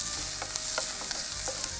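Onions sautéing with salt in a pan, a steady close sizzle broken by faint clicks of a stirring spoon.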